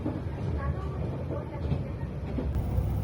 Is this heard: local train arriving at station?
yes